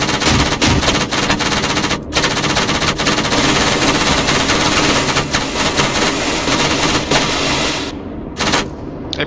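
Sustained video game gunfire in a military shooter, with dense machine-gun bursts and shots rattling loudly throughout, a brief drop-out near the start and a couple of short gaps near the end.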